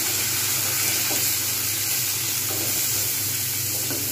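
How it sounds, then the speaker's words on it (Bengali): Tomatoes and green chilies hit a pan of fried onions, raising a continuous loud sizzle that holds steady throughout with faint stirring underneath and no voices. "এইবার আমি এতে টমেটো আর কাঁচা লঙ্কাটা দিয়ে দেবো।"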